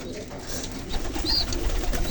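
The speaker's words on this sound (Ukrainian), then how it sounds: "Отакі голубяки в мене." Domestic pigeons coo softly in a loft, with low murmuring calls repeating over a busy background of rustling and faint voices.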